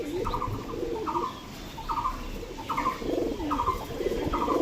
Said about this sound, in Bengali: বন্ধুরা আরেকটা পায়রা আপনাদের দেখাচ্ছি, এটা চান্দাখানি বাচ্চা